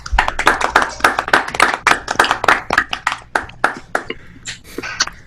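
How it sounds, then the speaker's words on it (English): A few Zoom participants applauding on unmuted microphones, close, uneven bursts of individual hand claps in a loose irregular rhythm that thins toward the end. "let's give him a round of applause"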